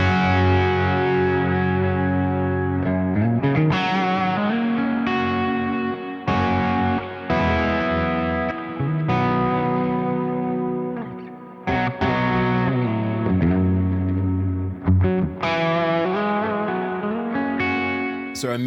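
An electric guitar plays distorted chords and notes through a real amplifier and an amp simulator together, with a ping-pong delay throwing repeats back and forth. It runs loud and continuous, with a few short breaks between phrases.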